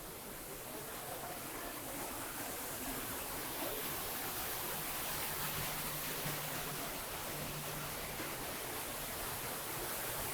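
Steady, broadband rush of falling water fills the space, continuous and enveloping like a waterfall echoing in an enclosed cavern at Disneyland Paris, with a faint low hum underneath.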